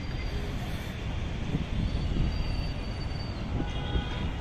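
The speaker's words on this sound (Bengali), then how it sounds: "সামনে একটা মেট্রো রেল দেখা যাচ্ছে" A metro rail train passes outside an office building in Dhaka, heard as a steady, fairly distant rumble of wheels on track that swells slightly midway and holds throughout.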